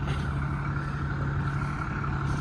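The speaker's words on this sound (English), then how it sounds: "Hear my truck? It's a loud one." A loud Peterbilt 379 truck engine runs steadily with a low, even rumble, heard alone and fairly close for a couple of seconds.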